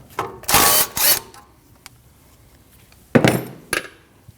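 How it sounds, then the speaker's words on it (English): A ratchet works a 13mm nut holding a brake hose to the steering knuckle of a 2012-2021 Nissan NV2500 van, in two short, close bursts of rapid clicking separated by a quiet pause. "It's held on by a 13mm nut. You need to remove that nut"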